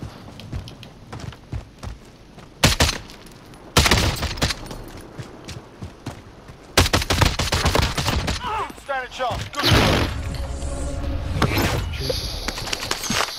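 Battle royale video game gunshots ring out as sharp, loud bursts and rapid volleys, some single cracks and some sustained strings, with a player talking between and over them.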